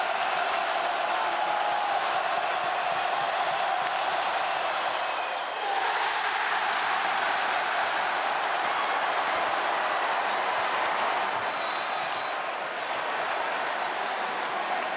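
A sellout basketball crowd at a North Carolina Central game keeps up a dense, steady roar of cheering and clapping, with a brief dip midway before the noise swells again.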